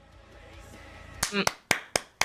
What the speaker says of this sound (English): I don't know if you heard that, but I clapped for you.